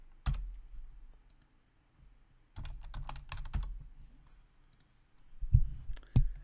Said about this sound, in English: We type Natas 0.